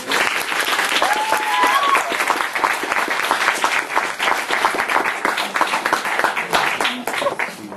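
An audience applauds loudly and steadily to welcome Kara DioGuardi, dense clapping sustained for the whole stretch, with a brief voice audible near the start.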